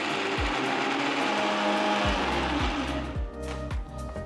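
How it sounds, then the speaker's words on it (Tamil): A kitchen mixer grinder whirs loudly and continuously, then its motor winds down into a lower, pulsing grind as it works through a thick moringa leaf soup mixture into a smooth paste. "ஒரு மிக்ஸி ஜாருக்கு மாற்றி ஒரு ஸ்மூத்தான பேஸ்டாக அரைச்சிக்கலாம்."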